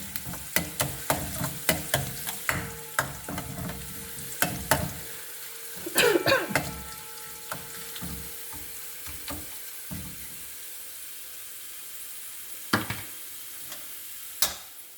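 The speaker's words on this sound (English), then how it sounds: "Let it cook, all the ginger, garlic, till it releases its rawness." Ginger and garlic fry in a pan for sabudana khichdi with a light, continuous sizzle, broken by irregular scraping taps and knocks of a spoon stirring, some louder and closer than others.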